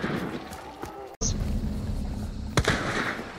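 Gunfire in the video game Hunt: Showdown: a sharp single shot cracks through, then a second loud report a moment later, with players chattering in the background.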